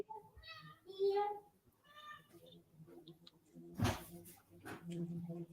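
A house cat meows several times at close range, with bright drawn-out cries, followed by a person speaking quietly.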